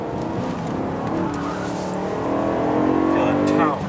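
A 2008 BMW E90 M3 accelerates hard through the gears, its engine note climbing loud and close inside the car, with a voice talking over the rising drone.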